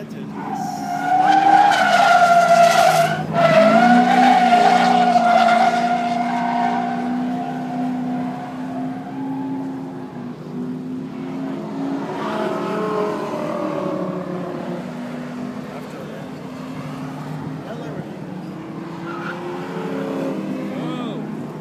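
Race cars tear past at speed with tire squeal and skidding, a loud engine whine that swells and sweeps away, followed by further passing cars, with people talking over the noise.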